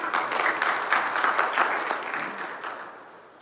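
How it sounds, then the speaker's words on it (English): A lecture audience applauds with steady, dense clapping that swells and then gradually fades toward the end. "Give him a big round of applause, please"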